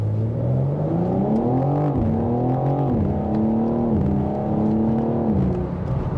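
A 2022 BMW M4 Competition Convertible accelerates hard through the gears, its exhaust rising in pitch and dropping at each shift, loud and close with continuous engine drone.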